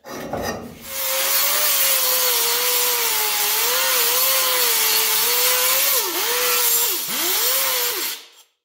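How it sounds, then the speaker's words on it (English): Steel tubing being ground flat along its top edge while notching pipe for a roll cage, a steady close, loud abrasive grinding with a wavering pitch that dips briefly near the end before stopping. "Now I'm going to go over and I'm going to grind that flat to the top side there and put a nice straight edge on it."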